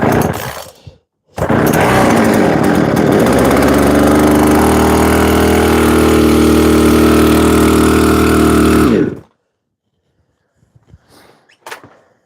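A Husqvarna chainsaw, an older well-used saw, is started after a full-choke pull and runs loud and close for about eight seconds, rough and rising at first and then holding a steady idle before cutting off. Faint scattered sounds follow in near silence.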